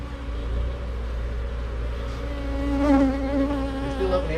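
Bees from an open beehive buzz steadily and close by, a dense continuous drone that swells slightly toward the end, with no talking.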